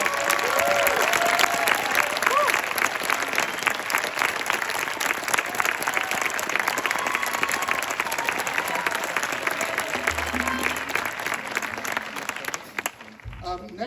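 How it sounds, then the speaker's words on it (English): A large audience at the end-of-camp music concert applauds loudly and continuously for about twelve seconds, with a few cheers, before the clapping abruptly drops away. "Please give them a huge round of applause."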